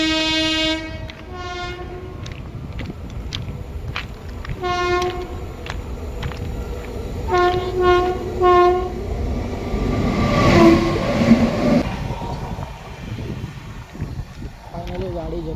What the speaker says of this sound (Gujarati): ટ્રેન આવી રહી છે સામે, તમે જોઈ શકો છો